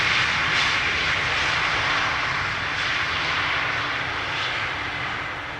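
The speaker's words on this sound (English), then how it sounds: "love the sounds of these massive engines in my ears" Massive jet engines of an arriving airliner at Amsterdam Schiphol Airport give a loud, steady roar with a hissing whine, holding strong before easing slightly as the aircraft passes.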